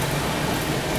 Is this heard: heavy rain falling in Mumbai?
yes